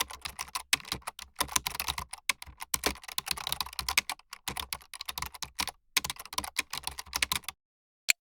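Rapid, irregular keystrokes on a computer keyboard while entering product numbers into canteen billing software, close and clear with no talking, stopping near the end with one last isolated tap.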